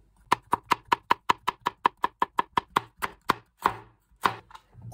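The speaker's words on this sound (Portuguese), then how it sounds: "Três dentes de alho, fatiar." Garlic cloves sliced with a knife on a cutting board, a fast steady run of about sixteen crisp, close taps, then a few slower, looser cuts.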